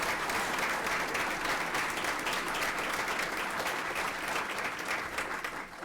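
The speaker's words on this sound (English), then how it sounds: "one more quick round of applause for all of our winners" Sustained applause from a large crowd at a board of education meeting, dense and steady clapping throughout with no voices standing out.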